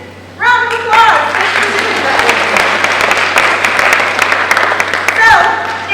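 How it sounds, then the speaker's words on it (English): Audience applause at a San Diego Comic Con wellness panel, a steady wash of many hands clapping for several seconds, with a speaker's voice heard briefly at the start and again near the end. "Round of applause."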